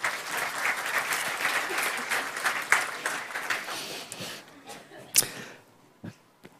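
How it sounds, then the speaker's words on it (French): An audience at a French-language Java conference talk bursts into clapping, loud and dense at first, then thinning out to a few scattered claps that fade away. "Oui, vous pouvez applaudir,"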